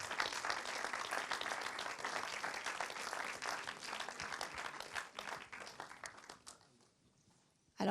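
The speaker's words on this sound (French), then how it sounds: "Oui, vous pouvez l'applaudir." An audience at a film masterclass applauds a cinematographer, and the dense, even clapping from many hands carries for several seconds before thinning out and fading away near the end.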